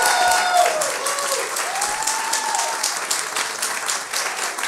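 Steady, loud applause from a storytelling show audience, dense clapping that continues throughout without a break.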